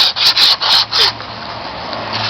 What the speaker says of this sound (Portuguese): Lixa o cantinho do para-choque.